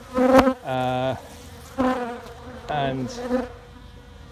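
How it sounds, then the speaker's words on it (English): Honey bees at a hive entrance in late October, heard as a close, loud buzzing hum in several separate bursts of about half a second, with short gaps of quieter background between them. "the bees are fanning at the entrance"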